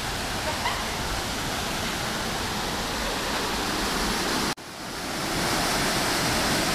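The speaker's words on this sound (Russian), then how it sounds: "На 4-м левеле водопад уже больше." Waterfall on the fourth level of the Pala-U falls near Hua Hin, a steady loud broadband roar of falling water throughout, with a brief drop-out near the end before the rush resumes.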